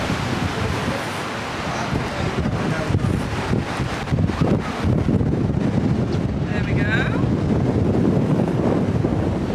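Strong wind buffeting the microphone at Blackpool Tower Eye in a continuous rough rumble, with a brief spoken remark partway through.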